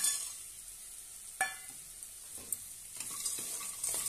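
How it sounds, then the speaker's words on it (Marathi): Sandge, dried lentil dumplings, sautéing in oil in a pan, a soft continuous sizzle with a few sharp stirring scrapes and clinks, no talk. "आणि छानपैकी तेलामध्ये परतून घेऊया।"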